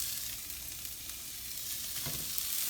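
Zucchini, squash and caramelized onions, sautéed with salt, pepper and olive oil, hiss and crackle in a pan beside ground turkey, a steady close sizzle that swells slightly toward the end.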